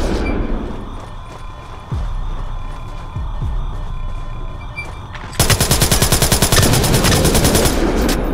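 In a Splinter Cell Blacklist Spies vs Mercs match, a low droning hum with scattered thuds gives way to loud, rapid automatic gunfire, a steady fast rattle that runs to the end.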